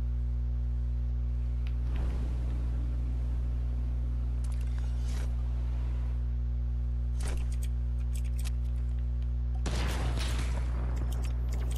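Gunfire in Fortnite, several separate crackling bursts standing out over a loud constant electrical hum, with short gaps of quiet between shots.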